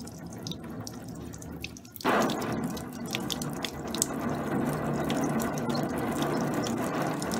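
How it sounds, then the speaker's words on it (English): Water sprays onto a screen-printing screen being washed out after exposure, a steady hiss with patters and drips, which jumps louder as the spray opens up fully and then continues evenly without talk. "Be careful in spraying the screen with water, too much water pressure can damage the design."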